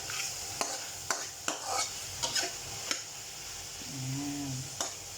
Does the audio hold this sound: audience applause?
no